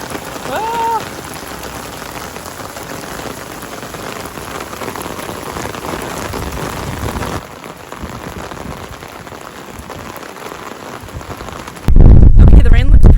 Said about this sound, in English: Just a complete downpour of rain.